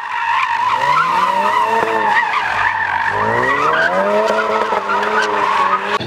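A Ford Focus RS in drift mode slides with long, wavering tire squeals over a loud, revving engine whose pitch rises and falls repeatedly, close and continuous with no voices.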